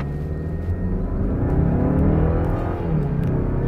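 A Mazda CX-5 with a 2.5-litre turbo engine in Sport mode pulls hard at full throttle, a dense, loud engine roar rising in pitch with a brief dip near the end, heard from inside the car with no talk.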